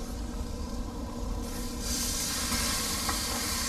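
Steak searing in a pan at a desert van campsite, a steady broadband hiss and crackle that holds close and continuous, growing slightly brighter partway through, with no talking.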